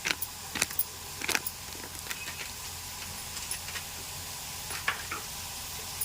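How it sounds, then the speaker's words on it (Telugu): Tender tamarind leaves fry until crisp in a pan, giving a steady, quiet sizzle with scattered sharp clicks and ticks from a spatula against the pan. "ఇగోండి కరకరలాడేలాగా చక్కగా వేపుకోవాలి"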